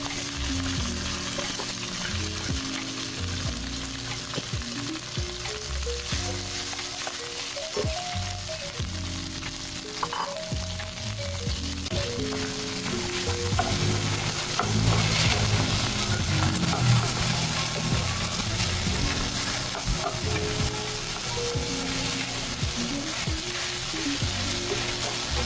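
Leftover cooked rice fries in hot cooking oil in a pan for a Filipino breakfast, a steady close sizzle with occasional scraping stirs, continuous and fairly loud throughout.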